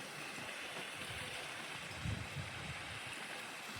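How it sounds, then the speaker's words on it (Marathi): A forest waterfall and stream rush steadily in the jungle near Amarkantak, a continuous broadband wash of flowing water with no voices. "धबधबा."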